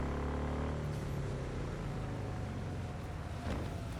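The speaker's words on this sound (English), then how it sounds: "Oh man, that engine sounds so sexy." The Caliburn car's engine in Cyberpunk 2077 hums as a steady, low rumble throughout, fairly quiet and even, with no talking over it.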